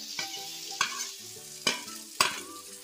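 Chopped banana flower stirred and fried in a pan of spicy masala, with regular scraping stirs of the spoon about every half second over a steady sizzle, close and clear with no talking.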